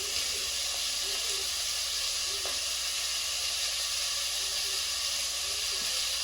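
Onions fry with salt in a pan for chicken pulao, giving a loud, steady sizzling hiss close by, with faint scattered pops underneath.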